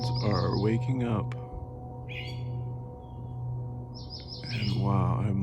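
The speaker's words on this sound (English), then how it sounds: "The birds are waking up." Birds chirp at dawn in short, bright bursts at the start and again near the end, heard over a steady low hum with a few scattered calls in between; a voice speaks through part of it.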